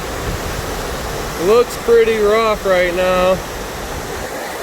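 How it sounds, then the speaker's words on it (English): Miners Falls at Pictured Rocks, Michigan, flowing heavily in a foggy setting, giving a steady broadband rush that continues under a person speaking briefly in the middle. "Beautiful falls though."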